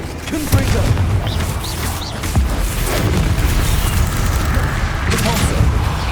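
Booming blasts of the Confringo explosion spell in Hogwarts Legacy go off repeatedly amid a dense, loud wash of game combat noise, with a voice shouting over the action.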